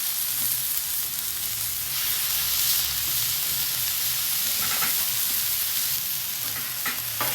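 Smash burger patties, doubled up for two burgers, sizzle steadily on a hot Camp Chef griddle at roughly 485 to 510 degrees, a continuous loud frying hiss with occasional brief scraping sounds.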